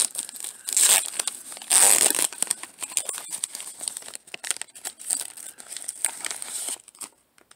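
Crinkly foil wrapper of a 2019 Diamond Kings trading card pack torn and crumpled open up close, two loud tearing bursts followed by lighter rustling and handling of the cards.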